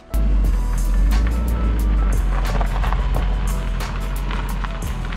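A jump-started BMW E36 idles with a deep, steady engine rumble close by, then creeps forward as it drives up onto rails, with faint clicks and knocks over the continuous low drone.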